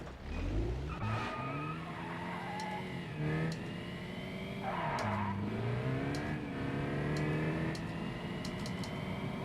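An old Mark 1 Golf engine in the BeamNG driving game revs and shifts, the pitch repeatedly rising and dropping with gear changes, while tires squeal in short bursts and sharp clicks tick over the top.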